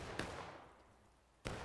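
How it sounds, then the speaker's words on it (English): Two sharp gunshots crack in a video game battle, about a second and a quarter apart, fairly faint and distant against a quiet background. "I don't like your double gunshots."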